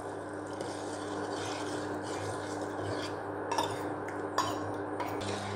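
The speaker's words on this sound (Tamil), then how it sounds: "நல்லா கிண்டிக்கிட்டே இருங்க." A spoon scrapes and rubs around a pot of black kavuni rice porridge as it is stirred on the stove. The scraping is continuous and moderately quiet, with a few sharper clinks against the pot.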